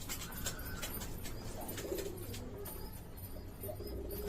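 Pigeons cooing softly in a loft, low murmuring calls repeating over a steady background hum with faint chirps and occasional wing rustles.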